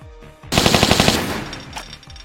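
Uzi fire from a classic Tomb Raider game rattles out as a rapid burst of about a dozen sharp shots lasting under a second, then fades off.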